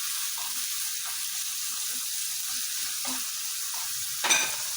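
Diced potatoes sauté in an oil-filled pan while being stirred, a soft continuous sizzle with faint scraping strokes and a small clatter near the end.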